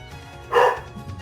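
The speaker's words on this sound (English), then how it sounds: "Dogs are barking." A single short dog bark rises briefly over a quiet indoor background, moderately loud and slightly distant, with no other sounds around it.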